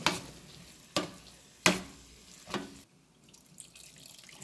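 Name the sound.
mackerel curry with tamarind water cooking in pan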